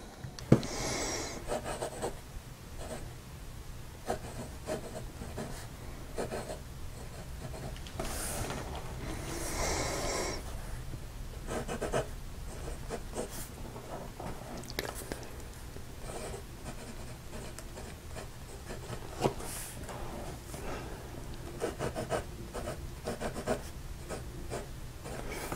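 A fountain pen nib in a wooden pen scratches across paper close up, soft rasping strokes repeating steadily with brief pauses between them.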